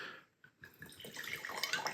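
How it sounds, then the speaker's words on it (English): Wine is poured into a glass for a tasting sample: a close, soft splashing trickle that builds and runs steadily for about two seconds. "let's pour a tasting sample"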